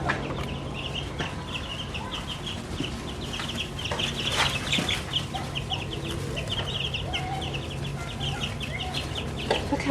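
Young hens and a rooster, around six or seven weeks old, cluck and chirp steadily up close in a coop, with repeated short calls layered over a constant low background hum.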